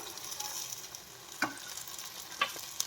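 Chili sauce spooned into veg chilli potato chips frying in a pan over a low gas flame gives a steady soft sizzle, with a few sharp spoon clinks against the pan.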